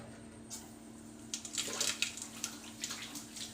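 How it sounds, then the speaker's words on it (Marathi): Mustard seeds drop into about one and a half spoons of hot oil in a kadhai and begin to sputter, with faint crackles and pops rising after a quiet start and continuing in scattered bursts. "सर्वप्रथम आपण मोहरी टाकूया"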